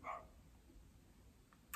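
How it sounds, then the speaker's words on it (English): A dog barks somewhere in the background, a short bark or two near the start and another at the very end, faint and distant against a quiet room. "I don't know if you can hear that dog in the background."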